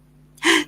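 A single short, sharp sneeze, loud and close after a moment of near silence.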